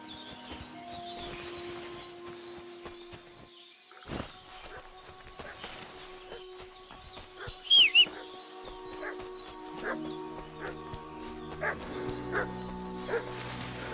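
Dog barking in the medieval game Kingdom Come: Deliverance II, several sharp barks around the middle and later over ambient outdoor sounds and soft background music, moderately distant.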